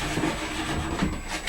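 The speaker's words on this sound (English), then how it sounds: "Heavy brushing is to actually make scratches in the ski." A stiff brush scrubs hard across the base of a new ski in quick, uneven rubbing strokes, close and fairly loud, with no voices.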